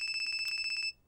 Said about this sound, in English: Oh, and it's such a shrill little ringtone.